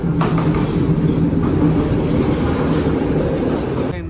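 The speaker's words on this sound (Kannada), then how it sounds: "ಹೋಗ್ತಾ ಇರೋವಂಥ ಟ್ರೈನ್ ಬಂದ್ಬಿಟ್ಟು ಇದೆ ನೋಡಿ." A local train in Sri Lanka rolls past close by with a loud, steady rumbling clatter of wheels and cars that holds for the whole stretch and eases slightly at the end.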